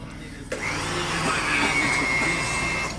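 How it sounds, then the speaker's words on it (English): A foot-pedal-operated hydraulic crimping tool starts abruptly and runs as a steady whirring motor hum with a rising whine, sustained for several seconds, with a voice faintly beneath. "So it's a crimping, basically a high-powered crimping tool."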